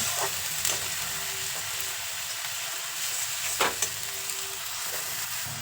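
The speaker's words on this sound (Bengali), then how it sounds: "এবার পেঁয়াজটা সামান্য লালচে করে ভেজে নেব" Onion paste with cumin frying in hot oil, a continuous loud sizzle close by, with a few sharp stirring scrapes.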